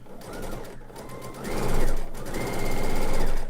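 A sewing machine stitching a headband runs in loud, rapid mechanical bursts, briefly slowing near the middle before speeding up again, close and steady with no talking.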